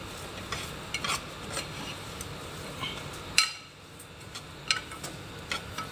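Broken wheat (daliya) is stirred and fried in a pan: a quiet, low sizzle broken by repeated light scraping taps of a spoon, one sharper knock midway, no speech.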